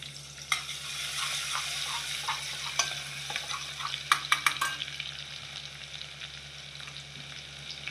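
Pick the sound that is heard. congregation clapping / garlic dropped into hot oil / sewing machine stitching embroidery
garlic dropped into hot oil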